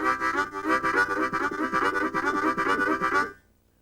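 A harmonica player plays a country harmonica train rhythm low on the harp, alternating two exhales and two inhales in a steady chugging pulse that imitates a train, close and clear before stopping.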